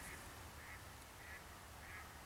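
Ducks quack faintly in the distance, about four evenly spaced calls over a low, steady outdoor rumble.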